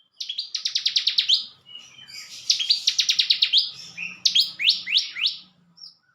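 Bar-winged prinia singing: bright, rapid trilled phrases of repeated sharp chirps, delivered in three or four bursts with brief pauses, close and clear against a quiet background.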